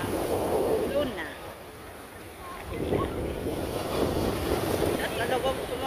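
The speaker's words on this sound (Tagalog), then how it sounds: "Ayan na yung alon!" Ocean waves wash onto the beach at Luna, La Union, a steady close surf roar buffeted by gusty wind noise, with faint voices underneath.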